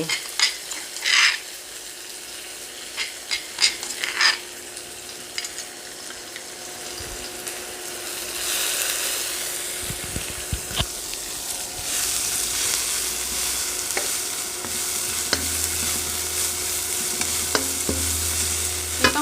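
Chili stir-fried with salmon skin in a pan over very high heat: a loud close sizzle and hiss with scattered clatter and scraping of the utensil, plus brief bursts of running water early on.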